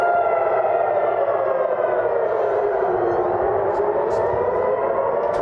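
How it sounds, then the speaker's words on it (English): Air raid sirens wail across Tel Aviv, a loud, sustained rising and falling civil defense tone filling the whole stretch with no pauses. "sirens ringing out in Tel Aviv and Jerusalem this morning with explosions in the sky"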